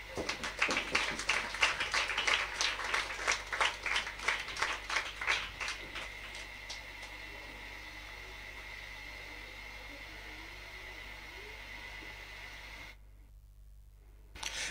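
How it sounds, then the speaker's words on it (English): A school audience at an annual thanksgiving service claps for about seven seconds, a brisk, fairly faint burst of hand claps heard from a distance that fades out into quiet room hiss. "Can I get a clap?"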